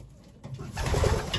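A racing pigeon coos at close range in a loft at twilight, giving a few low, soft, throaty calls that grow fuller toward the end, with no talking over them.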